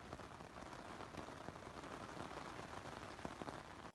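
Steady rain falls on the new Cloud-Up Pro, a dense, close hiss of drops with a few sharper taps, continuous for the whole stretch with no voices.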